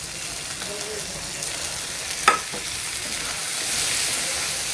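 Coriander and mint being stirred into crispy fried goat brain in a hot pan, a steady close sizzle and fry hiss with a single sharp scrape of the utensil partway through.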